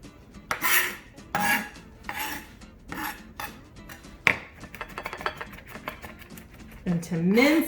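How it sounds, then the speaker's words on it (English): A knife blade rasps and scrapes repeatedly across garlic on a cutting board, with irregular close strokes and bursts, a sharp knock midway and a voice speaking near the end. "to mince it a little bit more, you just want to push the blade down, push it against the garlic, kind of like you're smashing it"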